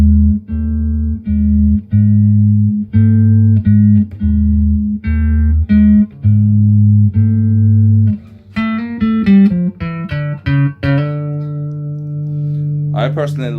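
Notes and chords on a Fender Jazz Bass V Deluxe five-string bass guitar, first slow, sustained low notes with clear gaps, then a quicker run of plucked notes ringing with bright overtones, alone and close.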